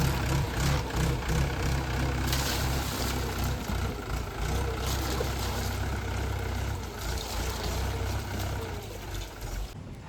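A tractor engine runs steadily while cutting furrows in a farm field being readied for planting, a loud continuous low drone that stays close and unbroken.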